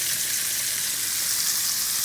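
Shrimp sizzle in a hot pan for Tuscan butter shrimp, a loud, even, hissing fry that carries on steadily without pause and with no voices over it.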